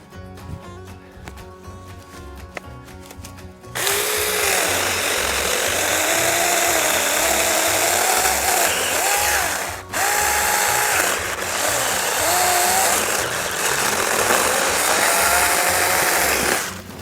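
After a quiet start, a Saker 4-inch battery-powered electric chainsaw whines into life at close range and cuts through wood with a loud, continuous high-pitched motor buzz whose pitch dips and rises as the chain bites, briefly pausing midway.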